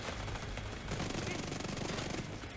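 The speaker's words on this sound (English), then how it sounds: "I was shooting his corpse" Rapid automatic gunfire from a tank-build shooter in The Division 2, a dense, continuous burst of loud shots hammering steadily for the whole stretch with no pause.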